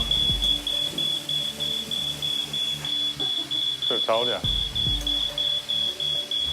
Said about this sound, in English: The smoke alarm's still going off.